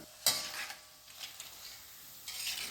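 Fried cassava chips are strained out of hot oil with a metal strainer, giving a soft sizzle under scraping and a few sharp metallic clinks, fairly quiet and close with no talking.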